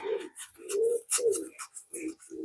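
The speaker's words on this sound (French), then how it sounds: "Vous entendez" Turtle doves cooing nearby, a series of soft, low, rounded coos at a steady rhythm with brief gaps between them, with faint higher bird chirps in the background and no voices.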